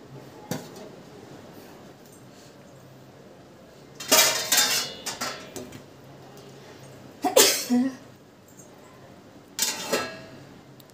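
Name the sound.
washing pots and dishes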